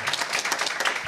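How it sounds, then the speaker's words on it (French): A short burst of applause from a crowd, dense and steady clapping at moderate loudness. "Et oui, on peut l'applaudir."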